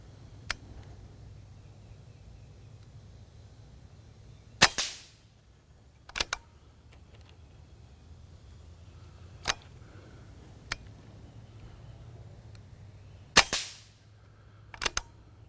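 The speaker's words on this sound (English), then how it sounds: "I'm shooting a steel target down there about 35 yards." Sharp gunshots ring out one at a time at irregular intervals, with a couple of louder cracks trailing a ringing tail as rounds smack a steel target about 35 yards away, outdoors against a low background hum.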